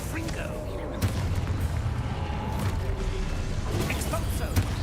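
A Confringo spell explosion in Hogwarts Legacy booms amid continuous combat noise, with a sharp blast near the one-second mark over a dense rumbling background of battle effects and a voice calling out.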